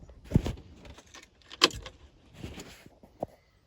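A key jangles and clicks in the ignition of a VW Caddy as it is switched off and back on, giving a few close metallic rattles and small clunks separated by quiet gaps.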